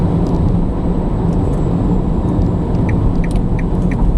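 A Nissan Leaf electric car drives and slows under braking into a car park, giving a steady low road and tyre rumble with no engine note, heard from inside the cabin at a constant loudness.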